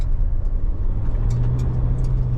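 A 2026.5 Ford Ranger Wolftrak ute rolls along a gravel road with 600 Nm going to the rear wheels, giving a constant close cabin roar of tyre and engine noise, with faint crunching ticks on top.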